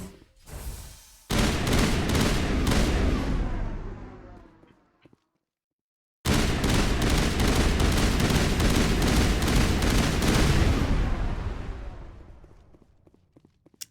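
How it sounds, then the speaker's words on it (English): Heavy sustained bursts of automatic gunfire in the video game Mass Effect, two long loud volleys of rapid shots separated by a brief silence. "I know the gunfire is super loud"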